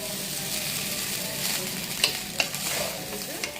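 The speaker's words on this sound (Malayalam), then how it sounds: "ഇതൊന്ന് നന്നായിട്ട് ഇതിലേക്ക് മിക്സ് ചെയ്തെടുക്കുക." Fried rice with soy sauce is stir-fried in a pan, giving a steady close sizzle with scraping stirs and a couple of sharp spatula taps against the metal.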